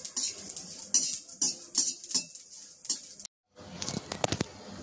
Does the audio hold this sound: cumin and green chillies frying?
yes